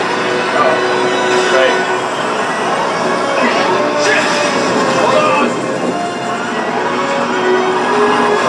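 A train rumbles along in the video game Resident Evil 6, set in China, a continuous dense roar of rolling carriages and rushing air that stays loud and steady throughout.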